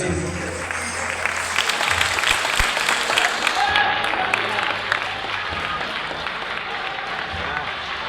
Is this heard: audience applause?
yes